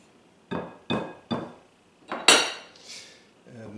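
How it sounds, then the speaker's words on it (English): Corn fritter batter given a quick whisk in a bowl: about five sharp metallic clinks in an uneven rhythm, close and clear, followed by a brief softer scrape. "I'm going to give this a quick whisk."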